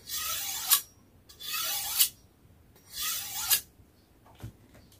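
A Turkish slaughter knife is scraped against a surface to test its sharpness, giving three rasping strokes of about a second each, close and distinct, followed by a short softer scrape.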